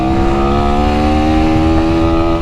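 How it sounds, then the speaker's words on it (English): A Sinnis SM-XE 125 dirt bike engine revs high and holds near the top of its range, a loud, close, steady buzzing drone with layered tones. "It does make a bit of a din at the top of the rev range. You just hear that engine"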